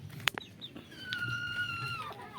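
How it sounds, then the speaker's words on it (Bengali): Desi chickens on a farm cluck softly nearby, with a few sharp clucks followed by a drawn-out call against quiet background noise. "এই যে বন্ধুরা একটা মুরগি দেখতে পাচ্ছেন এখানে বসেছে দেখুন"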